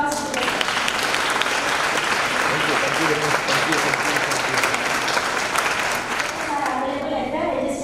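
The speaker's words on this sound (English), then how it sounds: "A big round of applause to the" An audience at a national chemistry seminar in a college hall applauds a speaker, sustained dense clapping throughout with voices faintly mixed underneath near the end.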